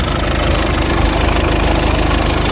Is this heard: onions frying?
no